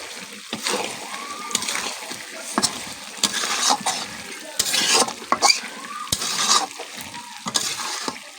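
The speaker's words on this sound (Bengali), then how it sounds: "এখন আলুও দিয়ে দিয়েছি, এতে কষিয়ে নিব একটু" Chicken curry with potatoes sautéed in a pan, with a spatula stirring and scraping in bursts over a steady close sizzle and wet splattering; no talk.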